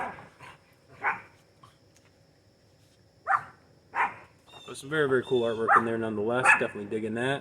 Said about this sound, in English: I'll just have to talk over my dogs barking because they're not going to shut up